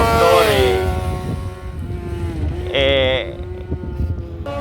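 High-displacement racing motorcycle engines warm up before a race, revving loudly and close by in rising, falling harmonic whines, with a sharp burst near the end.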